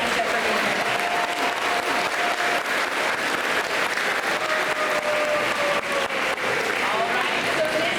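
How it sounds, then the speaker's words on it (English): An audience at a school award ceremony for 8th graders applauds steadily and loudly throughout, a dense wash of clapping from a large crowd, with a few voices mixed in. "let's give your biggest fans a big round of applause"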